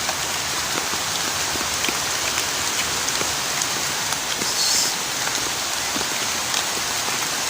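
Steady heavy rain pours down on surfaces outdoors during a wood-gathering trip, a dense, even hiss of drops with no voices over it.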